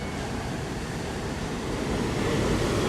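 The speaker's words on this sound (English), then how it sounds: "Just listening to the waves crash is just awesome." Ocean waves crashing on the shore in Bali, a dense, steady roar of surf that swells slightly louder toward the end, close and full with no voices.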